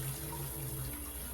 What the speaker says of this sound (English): You pour that water off.